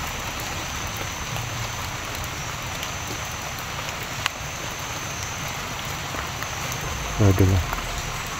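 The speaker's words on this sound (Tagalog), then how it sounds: "Ulan na naman po dito." Steady rain falls in a survival shooter video game, a constant hiss running through the whole stretch, with a few low thuds near the end and a voice speaking briefly.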